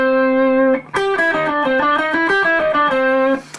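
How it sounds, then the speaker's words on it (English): Electric guitar playing the blues scale in shape 1 on string group 2-2: one sustained note, then a quick run of clear single picked notes stepping through the scale, with a slightly effected, driven tone and no talking. "2-2 string groups is going to sound like this for the blues scale in shape 1"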